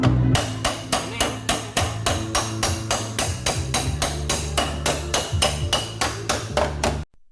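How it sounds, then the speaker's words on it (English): Precision hammering on crushed Toyota Corolla door metal during body repair, a steady run of about twenty sharp, evenly spaced metallic blows ringing close and loud, with no talk. "Once the shape is back, we move to precision hammering."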